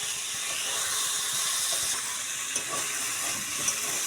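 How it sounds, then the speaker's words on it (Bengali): Fenugreek greens frying with eggplant in a pan give off a steady, loud sizzling hiss that continues without break and with no one talking. "বেগুন দিয়ে ভাজতে হবে।"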